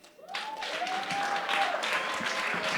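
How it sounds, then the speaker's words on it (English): Applause swells quickly at a jazz music workshop and holds as a steady crowd clapping, with a faint tone sounding briefly underneath early on. "Another round of applause for Standard Bank."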